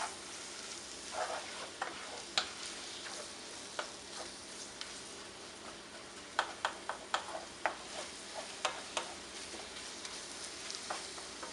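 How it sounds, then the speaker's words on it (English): Minced meat for pastelillos fries in a pan with a steady close sizzle, while a spoon scrapes and breaks it up in irregular ticking knocks throughout. No one talks. "you want the meat to be broken up, minced up, cooked thoroughly through"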